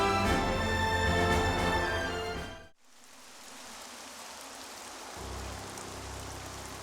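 Rain pours steadily in a Xenoblade Chronicles 3 cutscene, a dense hiss that drops out abruptly midway and then fades back in as a softer, even downpour.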